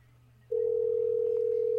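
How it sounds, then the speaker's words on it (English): A telephone dial tone begins abruptly after a short low hum and then holds as a single steady tone while a call back is placed. "Let's call them back and harass them."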